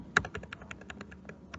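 Quick, light keystrokes on a computer keyboard, a steady run of close, crisp clicks with a louder tap near the start and no talking.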